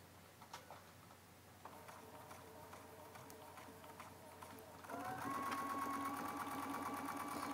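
A home sewing machine runs a quilt seam through pinned fabric on a Pineapple Log Cabin quilt, with a steady motor whir that grows louder and faster near the end as it sews off onto an anchor cloth.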